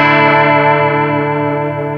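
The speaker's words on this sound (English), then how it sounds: "if you want just a nice vibrato," An electric guitar chord runs through an ADINEKO oil can delay pedal set for a gentle vibrato, sustaining loudly and steadily with a soft wavering shimmer as it slowly decays.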